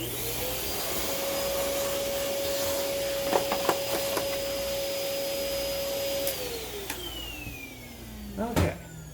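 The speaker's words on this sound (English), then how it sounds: "Let me go get the bench vac real quick." A small bench vacuum runs steadily with a high whine that drops in pitch as it powers down, with a few light knocks and clatters of handling along the way.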